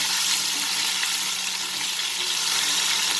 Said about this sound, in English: the ginger garlic paste. Just saute it a little bit